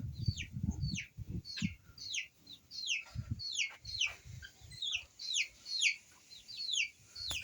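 Hens and a rooster cluck and squawk in a farmyard flock kept alongside guinea fowl, with repeated short calls in irregular bursts at moderate distance and low thuds and rustling underneath.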